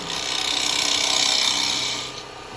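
A spindle gouge cuts a yew wood vase spinning on a lathe, making a steady, close scraping hiss that swells slightly and then eases off, with no talking.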